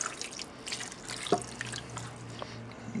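Water runs and drips from a kitchen tap into a pressure cooker for a clam bake of lobster, shrimp and clams, a steady faint trickle with a few close drips and no talk.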